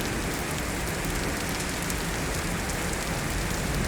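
Steady rain falls on tents at an outdoor setting, a dense, even hiss of drops filling the whole stretch with no gaps and no voices.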